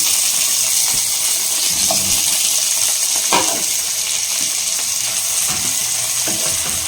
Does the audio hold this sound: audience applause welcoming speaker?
no